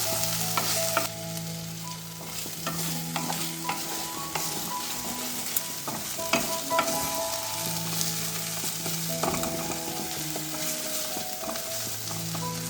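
Fish mince fries in a pan for kachuri, a continuous close sizzle broken by frequent stirring scrapes and spatula knocks, with no talking.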